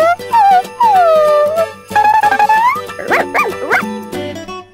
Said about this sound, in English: When I go home from school, it'll bark at me.